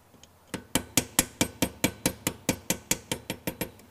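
Sharp, evenly spaced metallic hammer blows drive a washing machine coupler onto its shaft through a 3/8 nut driver, about fifteen strikes in a quick steady rhythm, close and loud with no talk.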